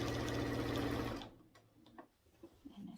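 A sewing machine runs back-stitching along quilt binding, a steady loud mechanical whir for about a second before stopping, followed by quieter handling clicks and rustles.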